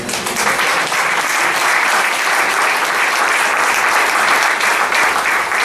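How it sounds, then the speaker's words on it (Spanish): A congregation at a church sermon breaks into loud, sustained applause that fills the whole stretch at an even, dense level, with no voices rising above it. "Un aplauso fuerte."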